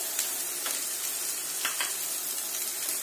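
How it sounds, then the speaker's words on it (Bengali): Chopped onion frying in oil with cumin seeds and bay leaf, a steady close hiss of sizzling with a few soft stirring taps; no talking. "পেঁয়াজ কুচিটা প্রায় 2-3 মিনিট মতো ফ্রাই করতে হবে।"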